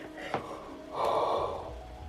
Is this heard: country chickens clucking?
no